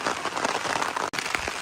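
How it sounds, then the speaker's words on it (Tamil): Heavy rain pours down in a cyclone in Jaffna, a dense, steady hiss with gusty wind close by, continuous except for a momentary break. "மழையும் அடிச்சு கொண்டு காத்தும் செம்மையா தூரிக்கொண்டு"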